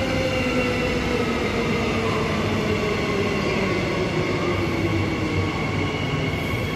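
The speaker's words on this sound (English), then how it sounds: "The train's arriving on platform 1." An electric multiple-unit train arrives at Joondalup station platform in Perth with a steady, loud rumble of wheels and motors and a faint rising whine, continuous throughout.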